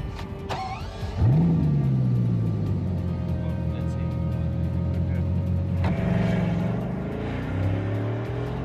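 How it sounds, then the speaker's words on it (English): Bugatti Chiron engine starting with a sharp crank and catch, then settling into a loud, steady idle with a rising rev near the end, voices faintly audible in the background. "Should I start the engine?"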